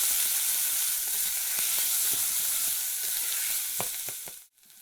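Onion, carrot and celery mirepoix browning in a pan on a stovetop, a steady close sizzle with scattered pops and spoon stirring clicks, cutting off abruptly near the end.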